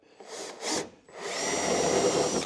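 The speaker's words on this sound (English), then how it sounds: "stick your hole in there with your step drill" A step drill bores a hole through the body of a Ford Ranger Tremor while a ProRoll roller shutter is fitted, two short whirring bursts followed by a longer steady grinding run, loud and close with no talk.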